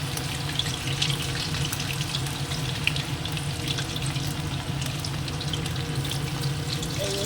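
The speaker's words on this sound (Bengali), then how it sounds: "এইভাবেই সবগুলোকে আগে ভেজে তুলে নেব" Large chicken pieces deep-frying in oil for chilli chicken, a loud, steady, dense sizzle that hisses and bubbles continuously without pause.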